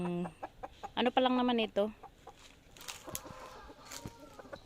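Rhode Island Red chickens on a backyard farm cluck and call loudly up close, with a burst of strained, harmonic vocalizing early on, then softer scattered clucks while someone speaks nearby.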